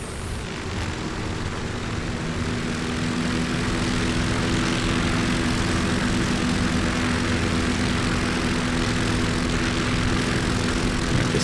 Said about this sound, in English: let's go ahead and take off, throttle up.